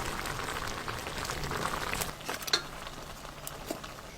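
Sugar syrup for tutti frutti bubbles and simmers in a pan while being stirred, a continuous soft crackling boil with faint scraping clicks, fairly quiet and without talk.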